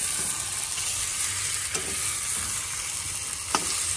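A spice masala with whole garam masala, cooked down for a pointed gourd dorma, bubbles and sizzles in its released oil. The frying hiss is close and continuous, with a few sharp spoon clinks against the pan and no voices.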